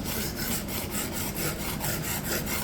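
Knife being sharpened by hand to remove chips and reset the cutting edge, a rhythmic scraping of steel against an abrasive in quick, even back-and-forth strokes, close and alone.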